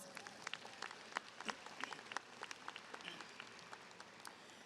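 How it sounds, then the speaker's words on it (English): A graduation audience applauds, the clapping heard faint and distant as a scattered patter of many hands with a few sharper claps standing out. "Give yourself a round of applause."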